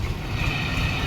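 A train rolls past a railway crossing, a steady loud rumble with low-frequency roar and some wind buffeting, continuous across the short moment with no talk.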